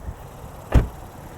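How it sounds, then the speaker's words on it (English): The door of a 2019 Honda Passport Elite AWD shuts with a single close, solid thud, short and crisp, heard alone against a quiet background. "Even the door close has a smooth, crisp feel to it."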